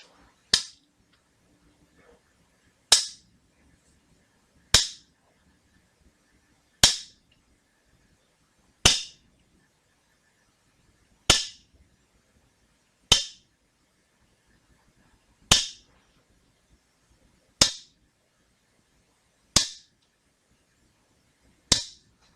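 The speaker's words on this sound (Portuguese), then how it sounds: "Este é o barulho das rochas batendo uma na outra." Rocks knocking against each other, heard as eleven sharp, bright clacks spaced about two seconds apart in an otherwise quiet room, each impact clean and isolated with no talking.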